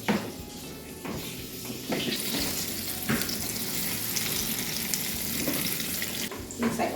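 Chicken pieces frying in a pan, a steady broad sizzle that runs throughout with small clatters and shifts, close and fairly loud, without talk.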